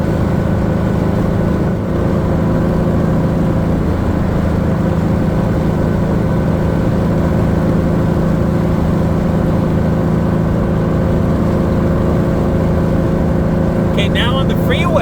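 A car engine drones steadily while cruising on the freeway at 75, a constant low hum with road noise throughout and a few faint clicks near the end.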